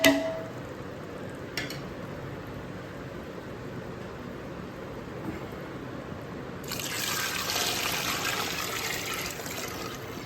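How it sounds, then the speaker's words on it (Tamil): Water poured into a pot of seeraga samba chicken biryani masala: a quiet kitchen background, then a steady, louder rushing pour starts partway through and runs to the end. "இப்போ நம்ம இதில் தண்ணி ஆட் பண்ணிக்கலாம்."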